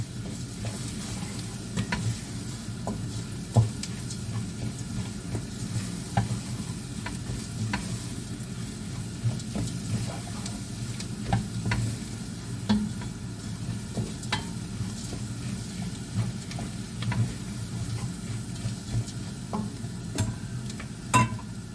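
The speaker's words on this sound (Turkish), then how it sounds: "Şimdi birazcık domates salçası koyacağım. Biraz biber salçası. Bunlarla da kavurayım biraz." Tomato paste and pepper paste sautéing in a pan for a spinach dish, a low steady sizzle with regular light ticks of a spoon stirring throughout, no voices.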